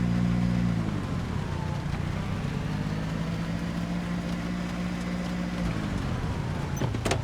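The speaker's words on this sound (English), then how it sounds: "Look at me, I'm driving cars." A car engine in the video game Project Zomboid drones at a steady, moderate level, shifting pitch as the vehicle starts moving and rolls along, with a brief change near the end.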